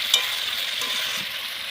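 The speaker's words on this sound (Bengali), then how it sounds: "তো এখন আমি মাংসটা কষাচ্ছি" Meat fries and gets stirred in a pan, a close, steady sizzling hiss with a brief sharp scrape at the start and soft stirring knocks.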